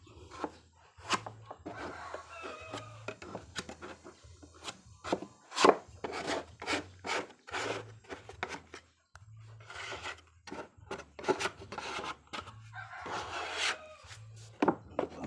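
A wooden table being scrubbed during a repair, heard as rhythmic rubbing and scraping strokes with sharp knocks and thuds of wood, fairly close and moderately quiet, and no talk over it.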